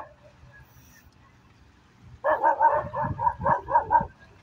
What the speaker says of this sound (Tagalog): Kaya pala nag-aaw-aw sila kasi may malaking aso na doon sa unahan.